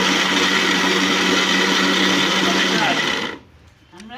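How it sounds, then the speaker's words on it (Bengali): A mixer grinder blends ginger, garlic, onion and tomato into a spice paste with a loud, steady, close motor whir for about three seconds, then cuts off abruptly into near silence. "তো গাইস দেখো মশলা বাটা শুরু হয়ে গেছে আমাদের"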